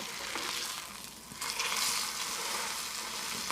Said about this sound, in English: So we're getting like a little bit more of a sizzle.